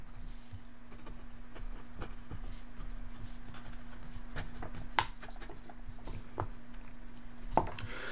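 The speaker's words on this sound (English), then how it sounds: "I'm just writing down a quick note" Pen scratching on paper as a quick note is handwritten during a solo tabletop game session, soft steady scribbling strokes up close, with a couple of sharper taps and no talk.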